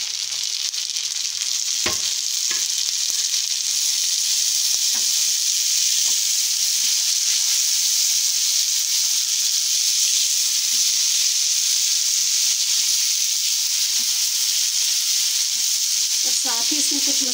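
A large tomato sizzles and fries in a pan with lightly browned ingredients, a steady close hiss that lasts throughout with a few faint stirring clinks and no voices.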